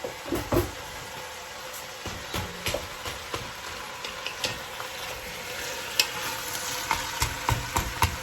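Vegetables sauteing in a pot for homemade stew give a soft background sizzle. Scattered clinks and scrapes of stirring, and a knock like a cupboard, break it up throughout.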